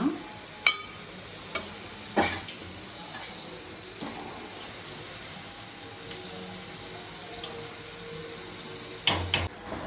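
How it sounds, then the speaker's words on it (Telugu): A spoon stirs masala-coated fish pieces for a fish curry, a few distinct scrapes and clinks of the spoon against the pan over a quiet low hiss, with a cluster of knocks near the end. "నెక్స్ట్ ఒక స్పూన్ తీసుకొని ఆ చేప పీసెస్కి మసాలా అంతా పట్టేలాగా బాగా కలుపుకోండి."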